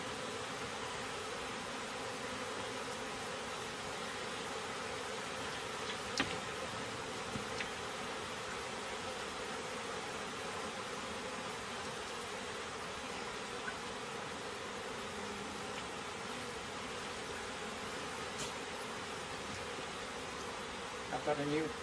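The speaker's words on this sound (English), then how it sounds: "I'm going to shake some extra bees into this swarm box." Honeybees buzzing around an open hive as they are shaken into a swarm box, a steady, close droning hum with a few faint knocks and rustles over its length.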